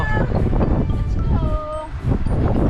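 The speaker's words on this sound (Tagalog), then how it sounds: "Ah, lakas ng hangin." Steady wind roars and buffets a microphone throughout at a high viewpoint in Abra, Philippines, with voices talking faintly underneath.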